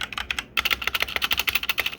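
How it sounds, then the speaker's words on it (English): Fast, crisp clicking of keys being typed on a mechanical computer keyboard, close up and alone, with a brief pause before a rapid steady run of keystrokes. "here we have my mechanical keyboard"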